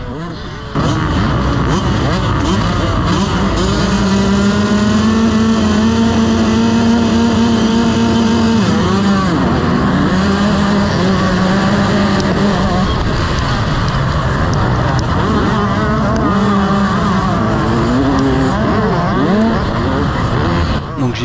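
Motocross motorcycles roar off the start gate at a semi-night race in Boupère, a dense wall of revving engines with shifting pitch that holds loud and steady throughout.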